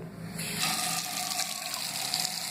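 Tap water gushes as the blades of a Philips Shaver series 9000 are rinsed under a running faucet. The hiss starts abruptly after a short quiet moment, then holds as a steady rushing stream close by.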